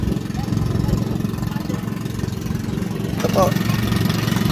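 A small boat engine runs at a steady low idle-like drone as a floating cottage heads out off Calatagan, with people talking over it throughout.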